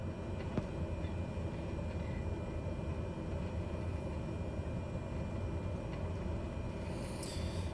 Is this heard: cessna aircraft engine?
yes